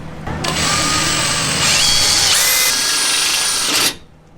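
A power drill whines loudly at high speed, its pitch climbing as it bites in, then cuts off abruptly after a few seconds, while installing a skid plate on a Chevy Colorado ZR2.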